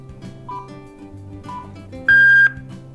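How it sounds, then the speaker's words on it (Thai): An AUTOBOT pet food feeder with a built-in camera gives one loud, steady electronic beep of about half a second while being connected during setup, standing clearly above a low background hum. "มันก็จะมีเสียงปี๊บแบบเมื่อกี้เนาะ"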